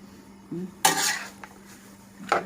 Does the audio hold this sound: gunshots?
no